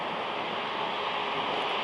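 Cold wind buffets the microphone of a touring bicycle on a road in Samara region, a steady, loud broadband roar with no let-up and no speech.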